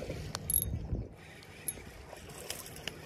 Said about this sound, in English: Just tightening my drag